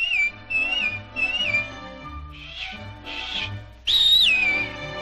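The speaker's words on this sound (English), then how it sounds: "give a little whistle" A person whistles a cheerful melody in several short phrases, the tune sung along with bright music, the last phrase louder and held.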